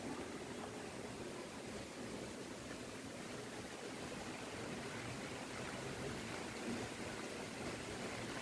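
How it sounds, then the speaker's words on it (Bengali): Rain falls steadily outdoors during Cyclone Amphan, a soft, even hiss heard from some distance that holds unchanged throughout with no voices. "দেখছো বৃষ্টি শুরু হয়ে গেছে অলমোস্ট জোরে জোরে"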